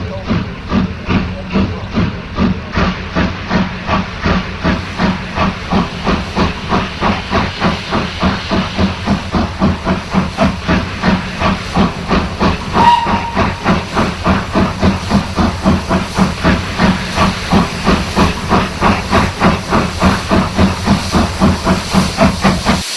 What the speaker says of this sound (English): the chosen loco, L94, passes Finchley Road on the trip out to Farringdon